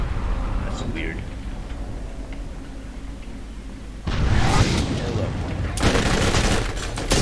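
In the video game Borderlands, gunfire rattles in rapid bursts under a talking voice, and loud grenade explosions break in near the end with heavy, broad blasts.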